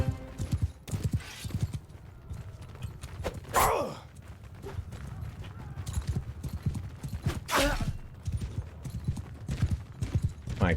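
Cavalry horses gallop in Mount & Blade 2: Bannerlord, a steady drumming clip-clop of many hooves close by with an occasional neigh. Someone talks over the hoofbeats throughout.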